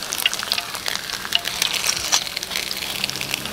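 Pork leg for crispy pata frying in hot oil, giving a steady, dense sizzle and crackle with scattered pops, close and continuous.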